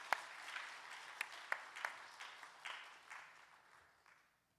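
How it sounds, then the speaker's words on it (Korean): Church congregation at a Sunday worship service clapping for an elder, a scattered round of applause with a few sharp claps that thins out and fades to silence, heard from a distance. "우리 장로님 박수로 한번 보실까요?"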